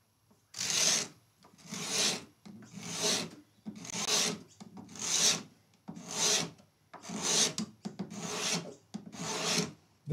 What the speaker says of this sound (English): This is a great scraper because it gives us the right profile. Helps me take the edges off where they need to be taken off.